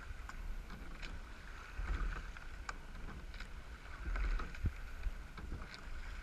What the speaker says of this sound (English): Listen to those oar locks.